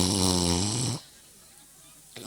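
A storyteller's voice imitates an old man snoring: one drawn-out, throaty snore lasting about a second, then near silence, heard up close.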